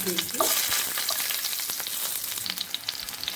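Mustard seeds and red chillies fry in about two spoons of hot oil with a close, bright crackling sizzle and scattered sharp pops from the bursting seeds, continuous and fairly loud.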